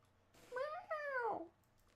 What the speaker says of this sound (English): Cat's cranky. Why is cat cranky?